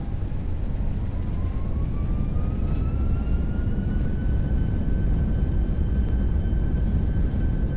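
Airbus A320-232 on landing rollout with thrust reversers deployed, a loud steady roar of engine and rushing air under a rising whine that settles as the jet decelerates; no one talks.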